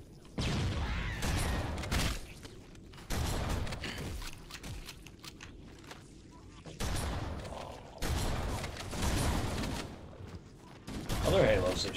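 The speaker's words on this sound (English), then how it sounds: "If you want to effectively remove the flood, you get the 12 gauge out and start firing." Firing from a 12 gauge shotgun in Halo: Combat Evolved, with three or four separate loud blasts, each followed by a ringing tail and mechanical clatter, spaced a few seconds apart.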